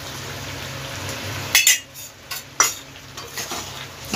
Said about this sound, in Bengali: একটু নেড়ে দেব, ভালোভাবে মিশিয়ে দেব।